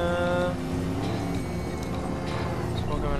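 A damaged car in the video game Watch Dogs drives hard during a chase, its engine droning steadily at high revs with a roar that shifts in pitch.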